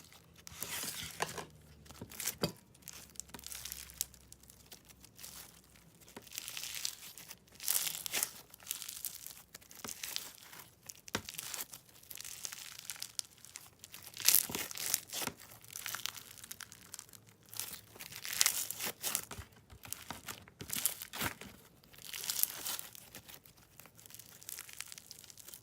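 Crunchy slime squeezed and worked by hand gives off steady crackling, crinkling pops in quick uneven bursts, close up and with no voices.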